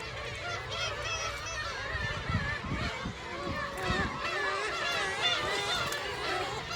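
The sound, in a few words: seabirds calling at a nesting colony on the coast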